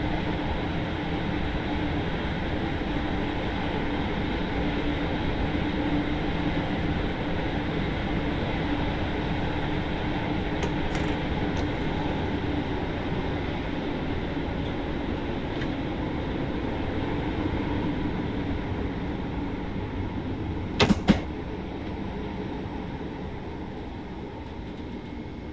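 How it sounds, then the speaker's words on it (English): Train rolling into Moulscombe station, a steady low rumble of wheels and carriage noise that slowly eases, with a brief sharp clunk near the end and no voices. "We are now approaching Moulscombe."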